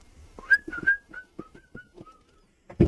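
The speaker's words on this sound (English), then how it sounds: "You can hear him whistling." A man whistles a short descending run of clear notes, close and distinct, with faint thumps and background sounds beneath, ending in a louder burst of noise.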